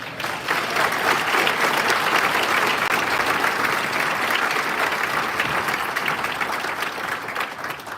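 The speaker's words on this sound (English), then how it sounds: "Another round of applause" A school audience gives student performers another round of applause, a thick, continuous burst of many people clapping that swells quickly and holds strong for several seconds before easing slightly.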